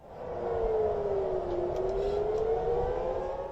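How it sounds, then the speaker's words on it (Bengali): Civil defense warning siren sounding in Israel during a missile attack, a steady wailing tone that slowly dips and rises again, loud and continuous over low rumbling background noise with no talk. "ইসরায়েলের তেলাভিভ ও জেরুজালেমে সতর্কতামূলক সাইরেনের শব্দ শোনা গেছে"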